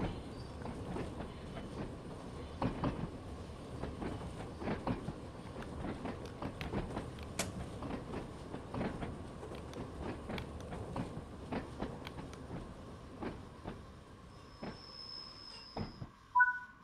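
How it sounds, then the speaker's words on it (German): An old train in the Train Sim World 5 video game rolls along with a steady clickety-clack of wheels and creaking, cracking bodywork, ending in a brief high tone and a few closing clunks. "da ächzt und kracht es im Gebälk"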